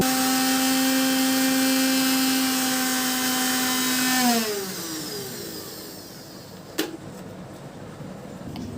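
A blender runs at high, steady whine while soybean oil is blended into homemade mayonnaise, then its pitch drops as it winds down and stops, leaving a quieter hum with a brief knock near the end.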